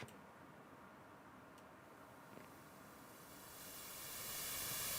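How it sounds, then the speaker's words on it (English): Broadband hiss rises steadily toward the end, a faint steady noise swelling louder over a few seconds. "White noise is coming in."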